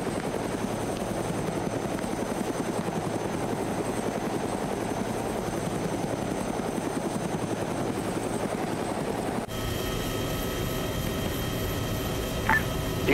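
Enemy helicopter in a combat video game, a steady rotor drone holding at close range with a sharp shift in tone partway through and thin electronic tones layered on top.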